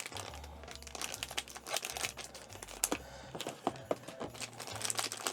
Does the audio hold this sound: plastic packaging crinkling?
yes